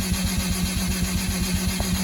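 An FC Mazda RX7 rotary engine running just after start-up, with fuel flooding trouble, idling in a steady rapid pulsing burble, close and fairly loud, with no voices.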